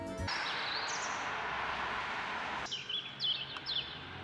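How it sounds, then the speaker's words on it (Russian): Birds sing at night in England on a mild 8-degree evening, with faint, high chirps and short tweets repeating over quiet background hiss. "На улице 8 градусов тепла и всю ночь поют птицы."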